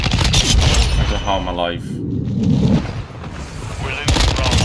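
Modern Warfare 2 gunfire in a match with a Honey Badger class setup, bursts of shots and booms mixed with game radio chatter and a player talking over the action.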